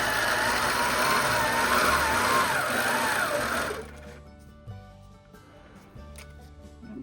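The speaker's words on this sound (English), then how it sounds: "I'm going to sew down my sides." An APQS longarm quilting machine stitches down the sides of a scrap quilt, a loud steady mechanical whir for about four seconds that then stops, leaving faint shuffling and light handling noises.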